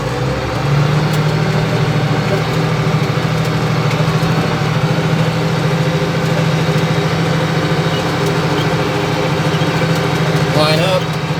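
Tractor engine idling steadily after being throttled down, a low continuous rumble with a constant hum throughout, loud and close, with a brief faint rattle near the end.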